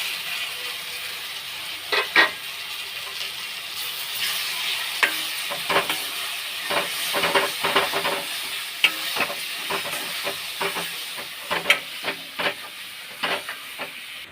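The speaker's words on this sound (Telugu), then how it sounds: "ఈ చింతకూర పచ్చడి అనేది ఇందులో వేసేసి ఒక 5 minutes వరకు అడుగంటకుండా కలుపుతూ ఉండాలండి" Tamarind leaf chutney is stirred in a hot pan: continuous soft sizzling and hissing with irregular scraping strokes and knocks from the spoon, close and fairly loud.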